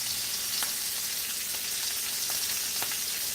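A steak sears in a hot pan with a steady, dense sizzle, close and even throughout, with a few faint ticks and pops and no talking.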